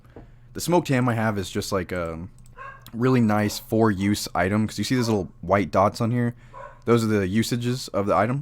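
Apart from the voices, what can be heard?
dogs barking in the background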